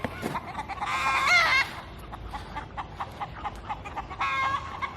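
Backyard chickens clucking and calling in a northeast Ohio garden on a July evening, several close, fairly loud bursts of squawky chatter with brief pauses between.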